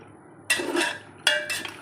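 Mutton is stirred in a metal pot for Hyderabadi mutton marag, with two close bursts of a spoon clanking and scraping against the pot's sides.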